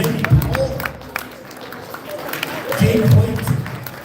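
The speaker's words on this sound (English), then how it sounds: "Round of applause for these guys for serving us." Applause from a crowd at a Lindon City centennial painting unveiling, honoring city council members: scattered clapping rises in bursts near the start and again toward the end, mixed with a voice over the room.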